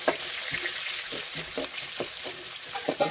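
Onion frying in groundnut oil in a pan for Malnad crab curry, a close, continuous sizzle and crackle with stirring scrapes and small pops, no talk.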